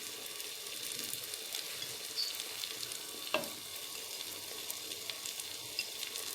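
Tomato paste and spices fry in oil in a pot for Moroccan barley soup, giving a steady close sizzle throughout with one brief scrape or stir.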